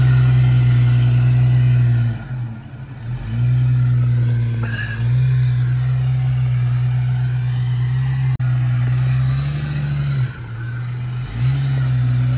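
A Jeep ZJ with seized rear brakes drives through mud, its engine a loud, steady low drone that revs up and dips several times with brief lulls, close and continuous.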